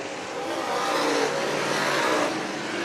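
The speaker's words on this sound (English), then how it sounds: "J.T. Anderson trying desperately to get past the number 5 of Josh Haynes." Race cars battling on a short track during last chance races: engines roar past loudly, revving and swelling through the middle and easing slightly at the end, with no voices.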